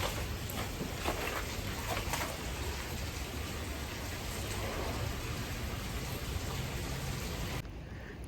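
Rain falling beside the Thames river in London: a steady, faint wash of rain with soft hiss and scattered patter. The sound stays even throughout, with no voices.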